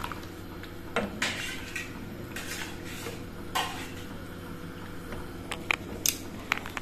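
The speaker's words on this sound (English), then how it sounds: "You stir it." Baby porridge is stirred in a pot, giving soft scraping and light clinking taps at an irregular rhythm, quiet and close, with no talking.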